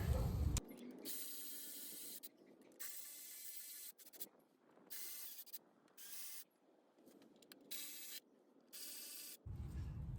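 Transmission pan bolts on a 2017 Ford F-250 are run down with a ratchet in short, repeated bursts of clicking and whirring, separated by brief pauses, close and clear with no talk.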